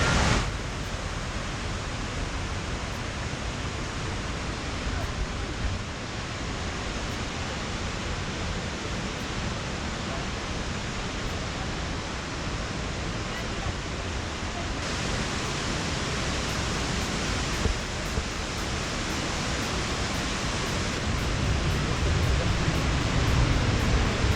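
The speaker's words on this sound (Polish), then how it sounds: "by można było podejść pod sam wodospad i nakręcić go w całej ukazałości" A waterfall at La Coo roars as a steady, loud, dense wash of falling water, constant throughout with no voices.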